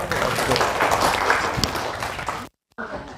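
A classroom of students claps together during a teaching session, a lively burst of many hands that fades, cuts out briefly, and resumes faintly.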